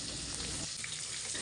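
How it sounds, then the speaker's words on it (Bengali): Fish pieces shallow-frying in oil over a low flame, a soft continuous sizzle heard close up for a brief moment, with no voices. "চুলার আঁচটা কিন্তু আমি একদম লো করে রেখে একদম আস্তে আস্তে অল্প জাল দিয়ে মাছগুলো খুব ভালো করে ভেজেছি"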